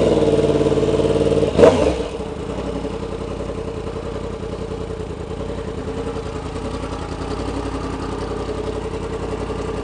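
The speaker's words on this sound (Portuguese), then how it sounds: "aí tá com escapamento direto. O ronco já é outro." A 2016 Yamaha R1 motorcycle with a straight-through exhaust gives a sharp rev blip and then settles into a loud, steady, rumbling idle close by.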